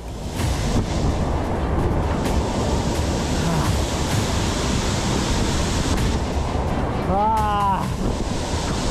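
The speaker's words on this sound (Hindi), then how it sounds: "ये बहुत ऊंचा झरना है।" A very tall waterfall roars as a constant, loud broadband rush, close to the listener and with no pauses, while a person talks over it.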